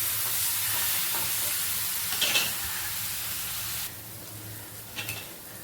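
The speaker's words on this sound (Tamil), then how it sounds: "வதக்கிட்டு சும்மா ஒரு 2 ஸ்பூன் போல் தண்ணி இதில் தெளித்து அப்படியே வச்சுருவோம்." Spices sautéing in a pan after a couple of spoonfuls of water are sprinkled in, a steady loud sizzle and hiss that drops slightly partway, with brief stirring scrapes.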